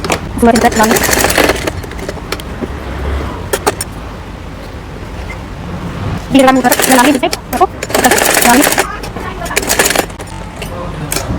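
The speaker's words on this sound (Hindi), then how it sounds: "इसके ऊपर हम सिलाई लगा लेंगे" Sewing machine stitching the collar of a child's night suit, two fast rattling bursts of stitching separated by a quieter stretch, close and fairly loud, with some talk in between.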